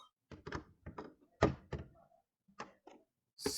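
A Kenwood blender jar is clipped into place and locked and unlocked on its base, giving a series of short plastic clicks and thunks in quick irregular succession, close and fairly quiet.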